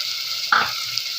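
Tomato paste hits a hot pan for a peanut and makhana curry, setting off a sudden sharp sizzle burst that settles back into a steady, close frying hiss.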